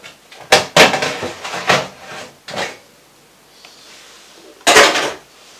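Items come out of a home oven during a deep clean: a series of clattering knocks and scrapes of racks and pans in short bursts, with a quiet pause before one last clunk.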